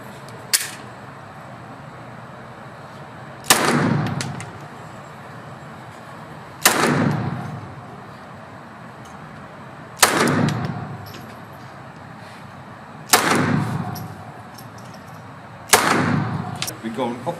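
Pistol shots at an indoor shooting range in Belgium: five loud, sharp cracks spaced about three seconds apart, each followed by a short echoing tail, with a faint hum in between and no talking.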